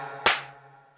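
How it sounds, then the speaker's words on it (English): A slap sound effect fired from a K1 sound card: one sharp, loud smack with a brief decaying tail over a steady low hum, alone without talk. "Slap."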